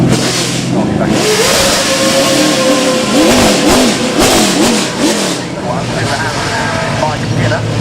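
A Chevrolet NASCAR race car at the Goodwood Festival of Speed revs hard, its engine note rising and falling in repeated sweeps, loud and close, while a commentator talks over it.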